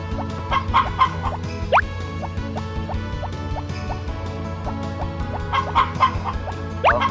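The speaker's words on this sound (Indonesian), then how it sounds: "Terus kita kasih makan ayam kita supaya mereka sehat walafiat dan menghasilkan telur yang berlimpah." Chickens clucking in Harvest Moon Back to Nature, repeated short game clucks over a looping background music track, with a few bright rising chirps standing out.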